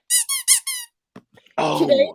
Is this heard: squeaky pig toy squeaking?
yes